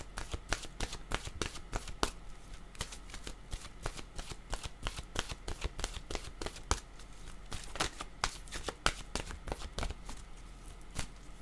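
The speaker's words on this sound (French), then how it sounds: "Je vais demander une carte maintenant de mon oracle de l'âme intuitive." Oracle cards being shuffled by hand, a long steady run of crisp riffling slaps and soft papery flicks repeating in quick irregular rhythm, close and continuous with no talking.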